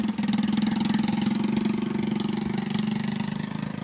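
A motorcycle engine idles with a steady, close, throbbing rumble and a slight waver in pitch, with nothing else heard over it.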